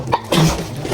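A single sharp sneeze bursts out up close, loud and abrupt, with a short airy release trailing after it.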